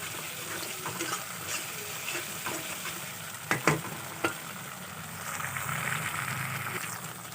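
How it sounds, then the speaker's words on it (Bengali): Spice paste with ginger stir-fries in a pan for a vegetarian soybean dish, a steady soft sizzle with a few sharp scraping clicks midway, close and without talk. "এখন এই মশলাটাকে ভালো করে কষিয়ে নিতে হবে যাতে আদার গন্ধটা চলে যায়"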